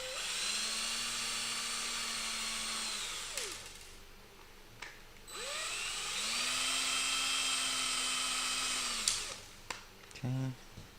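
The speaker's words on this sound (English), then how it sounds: "I'm just going to gently remove these screws." A power screwdriver backs screws out of an aircraft instrument panel during a G1000 avionics upgrade. Two sustained, close, high-pitched whirring runs rise and fall in pitch, separated by quiet handling, with a few short bursts near the end.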